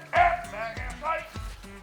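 Hunting dog barking during a quail hunt, three or four sharp, close, loud barks in an uneven rhythm, with a softer yip between them.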